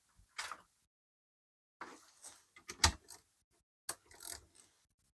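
A wrench applies torque to a Yamaha Vmax steering head while removing the bearing, producing a few sparse, quiet mechanical clicks and metallic ratcheting scrapes in short bursts with pauses between.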